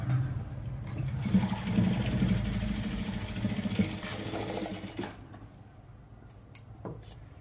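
Sewing machine stitching a small folded square of fabric for dori tassels, a steady rapid mechanical whir for about five seconds that then drops to a quieter hum and a couple of brief clicks.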